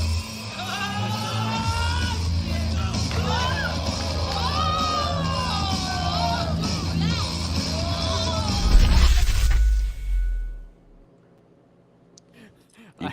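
A crowd yells and cheers at a welterweight fight in the squared circle, a loud, steady roar with shrill individual shouts and voices on top, which then cuts off abruptly to near silence.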